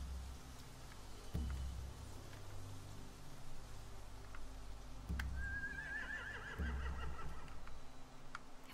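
Horses whinny and snort in The Walking Dead: The Final Season video game, with a long, rising neigh standing out midway over low thuds and a faint, steady rain-like background hiss.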